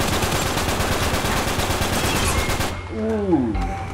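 Gunfire in the video game Uncharted 3, dense rapid shots filling most of the moment, then cutting off into quieter game sounds with a brief tonal sweep near the end.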